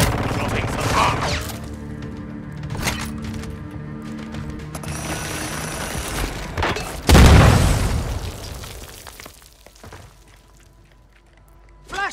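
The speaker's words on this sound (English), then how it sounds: "Dropping some bombs." Bombs dropping and exploding during a Call of Duty Warzone Resurgence match, heard as scattered booms and bursts, then one loud, close blast about seven seconds in that fades into a quieter tail.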